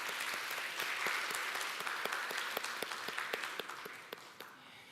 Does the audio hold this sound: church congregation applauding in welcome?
yes